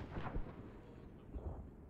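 Distant booming artillery fire in a World War II war video game, two muffled heavy thuds about a second apart, fairly faint, over a low ambient rumble.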